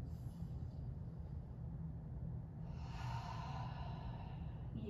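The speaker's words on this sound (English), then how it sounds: "Deep breaths here." Deep, slow breathing during a cardio yoga cool-down, lying back with palms up and knees fallen open; a steady airy breath runs throughout, with a stronger exhale swelling in the second half.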